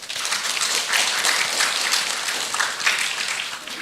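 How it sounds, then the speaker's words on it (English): An audience claps steadily in a lecture hall at the close of a visiting professor's lecture, a dense, even patter of many hands that holds at full strength from start to finish. "please join me in warm round of applause for Professor Flora Tassone"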